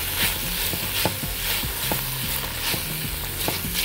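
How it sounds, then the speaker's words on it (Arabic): Onions and colored peppers fry in oil as a spoon keeps turning them, a dense continuous sizzle with repeated stirring scrapes and knocks close by. "نقعد نقلب كده شويه عشان البصل كان بتاعنا يتفرط"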